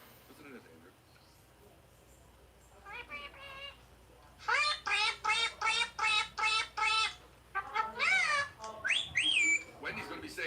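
A talking pet bird gives a series of bright, warbling whistled calls in quick repeated bursts, close and fairly loud, with a softer stretch before and varied chirps after.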